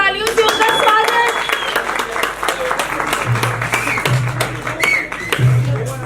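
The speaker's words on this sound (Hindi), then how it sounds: "बहुत ही जोरदार तालियों से उनका स्वागत" An audience claps loudly and steadily to welcome a musician at an alumni meet, with voices and cheering mixed into the applause throughout.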